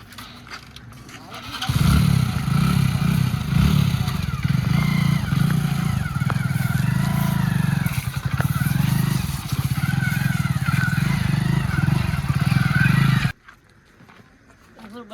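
A motorcycle engine runs loud and steady for most of the stretch, then cuts off abruptly near the end, with voices heard around it.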